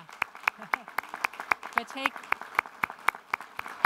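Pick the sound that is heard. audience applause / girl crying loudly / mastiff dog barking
audience applause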